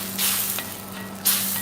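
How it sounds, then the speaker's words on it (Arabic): Chicken frying in a pot, with a steady close sizzle and crackle over a low hum from the kitchen and a couple of brief bursts of stronger hissing, with no talk. "هذا صوت طنجرة على الفراخ."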